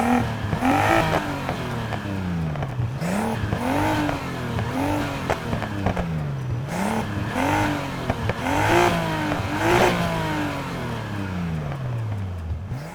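A Nissan R32 GT-R in the Need for Speed Heat video game revs loudly and up close in repeated swelling rises and drops, each rev climbing then falling back, with no speech.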